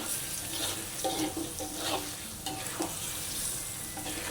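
Rendang being stirred as it fries down in a pan, its spiced paste turning dark and releasing oil, giving a steady low sizzle with soft scraping stir strokes at irregular intervals, close and fairly quiet.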